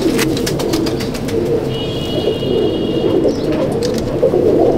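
Madrasi pigeons with deep red eyes coo continuously in a loft, soft overlapping calls close by, with brief higher chirps and a light rattle over the top.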